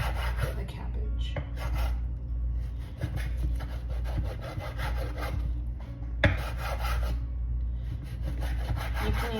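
Cabbage is cut into strips or chunks with a knife on a board, giving repeated rough rasping, sawing strokes with a few sharper thuds, close and moderately loud.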